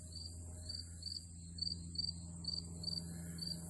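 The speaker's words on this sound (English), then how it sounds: "I don't know if you can hear the cricket" Crickets chirping outdoors in the afternoon: a steady, evenly spaced series of faint, high chirps over a low, constant background hum.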